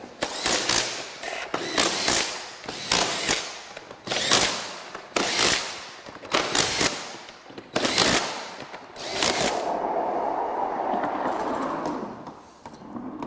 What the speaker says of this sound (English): we're going to go ahead and tighten down our screws